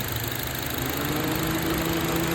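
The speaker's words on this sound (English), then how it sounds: "Notice though when this clutch kicks on," Honda CR-V engine idles with a steady mid-pitched hum, and the AC compressor clutch engages partway through, adding a rising tonal whine with no change in the engine's rhythm, close and continuous.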